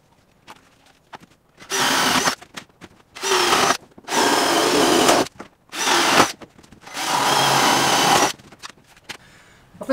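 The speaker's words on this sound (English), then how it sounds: "I think that shows you the importance of having a nice sharp drill bit, because that's just gone through them like a hot knife through butter" Power drill with a sharp bit boring cable holes through wooden ceiling joists inside a narrowboat, five loud, close sustained bursts of whining grind separated by short pauses.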